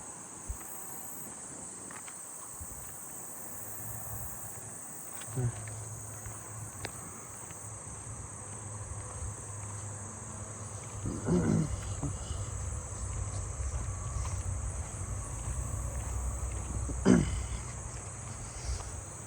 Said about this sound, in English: I hear some fall field crickets over there